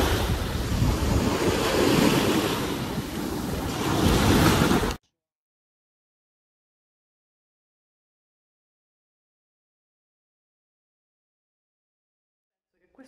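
Sea waves breaking on a beach with gusting wind buffeting the microphone, a loud steady roar for about five seconds that cuts off abruptly into silence.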